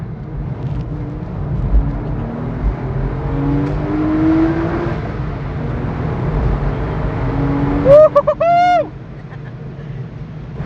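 A Porsche 986 Boxster S drives along with a steady low engine drone and road rumble from inside the cabin, and a brief rising whine near the end.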